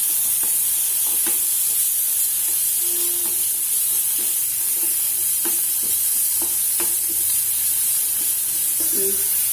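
Ridge gourd peel fries in a hot pan with oil, giving a continuous close sizzle and hiss, broken by scattered scraping clicks from stirring.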